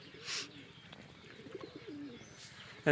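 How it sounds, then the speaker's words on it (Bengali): Pigeons feeding on scattered grain give soft, low, repeated coos at close range, with a few light chirps and faint rustling in between. "চারিখানে পায়রাগুলো ছড়িয়ে ছিটিয়ে আছে, তারা উড়ে উড়ে যাচ্ছে"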